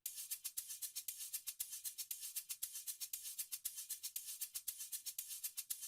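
A fast, steady amapiano shaker loop: crisp rattling hits repeat in a tight, even rhythm with no voices.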